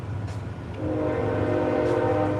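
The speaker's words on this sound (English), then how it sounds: "Everybody hear the train?" A train horn sounds loud and sustained from about the first second onward, over steady low rumbling of the passing train, with no talk.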